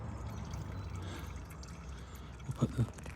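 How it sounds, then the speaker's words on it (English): Engine oil draining from a Seat Leon 1.4 TFSI, a soft continuous pour and trickle of liquid, faint and close, with a few louder splashy drips near the end. "So once that's stopped pouring of oil,"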